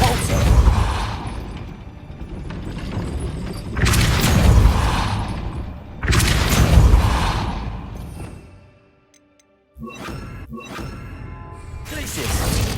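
Spell effects in Hogwarts Legacy, the Depulso force spell among them, come as three loud broadband bursts with booming low ends and whooshing tails, then a near-silent gap and two sharp crack-like hits as the clip ends.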